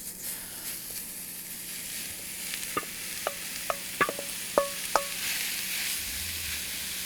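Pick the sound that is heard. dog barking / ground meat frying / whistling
ground meat frying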